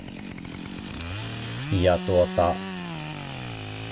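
A chainsaw runs steadily while cutting a very tall stump at about shoulder height. The engine revs up in three loud surges as it bites into the wood, and someone says a word near the start.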